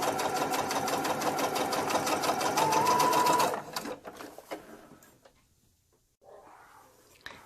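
A sewing machine stitches fabric bag pieces with a fast, steady, close mechanical whir for about three and a half seconds, then stops, leaving faint rustling handling sounds.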